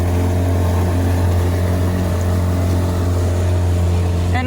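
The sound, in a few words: dinghy motor running on the water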